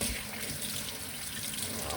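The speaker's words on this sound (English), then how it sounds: "Wash my hands." Tap water runs steadily from a faucet into a sink during handwashing, a continuous close hiss and splash that fills the whole stretch with no pauses.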